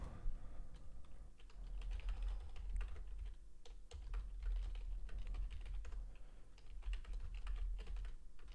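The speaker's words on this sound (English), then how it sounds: "If you do hear typing, that's just me making alerts in the community that I offer." Rapid keyboard typing, close and steady, with bursts of key clicks running throughout under a low background hum while a live day-trading session goes on; no one speaks.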